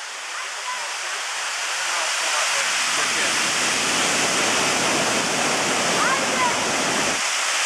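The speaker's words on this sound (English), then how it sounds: "Yes, it's a really, really tall waterfall. The water is low right now, but it's not too bad." A tall waterfall at Stewart Falls with low water flow gives a steady broadband rush and hiss that swells slightly and holds evenly throughout, with no voices.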